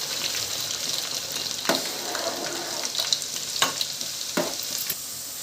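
Garlic paste added bit by bit to hot oil with fried mustard seeds, cumin and fenugreek for a mango chutney, stove off, crackles in a steady close sizzle broken by a few sharp utensil clinks, no speech.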